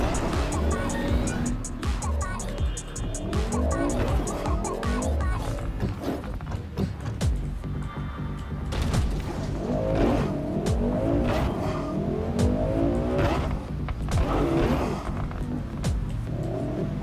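Caliban car from Cyberpunk 2077 driving with a steady engine hum, tire noise and occasional squeals, continuous and close throughout, with people talking over it at times.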